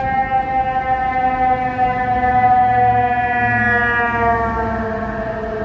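A loud ambulance siren wails with a steady, slowly falling pitch in Lockport, sounding close and fading slightly as it moves past.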